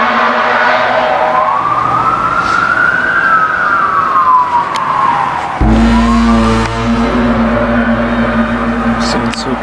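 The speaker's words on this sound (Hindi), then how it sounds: "पुलिस की जो गाड़ियां हैं वो दौड़ रही हैं" Police car sirens wailing at close range, a rising and falling tone that sweeps up and down, with a second siren or engine cutting in partway through and continuing loudly to the end.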